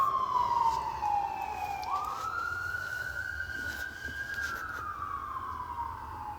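An emergency vehicle siren, ambulance or police, wails in a long rising and falling sweep, starting loud, dipping, climbing again and then slowly fading. It is heard alone, with no talking.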